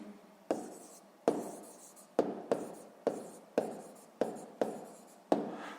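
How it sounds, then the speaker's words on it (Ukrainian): An answer is handwritten in a notebook for a sixth-grade math exercise, with a pen scratching in about eight short repeated strokes, each with a sharp onset that fades, close and quiet with no talking. "Ну що ж, записуємо відповідь."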